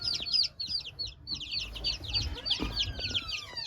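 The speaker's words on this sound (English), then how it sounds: "Well, we hatched out some more baby chicks." Chickens cluck and chirp in rapid bursts on a small farm, with young chicks among them, the busy high calls continuing across the whole stretch over soft low background rumble.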